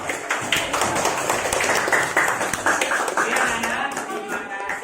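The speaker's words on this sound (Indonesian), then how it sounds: "Kasih aplaus" A class of students applauds in a classroom, a dense, steady patter of many hands clapping at close range for the whole stretch, with a few voices mixed in.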